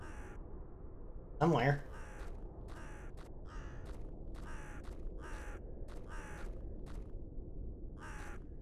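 A crow in a video game caws repeatedly in short, evenly spaced bursts over a steady ambient hum, with one brief spoken word early on.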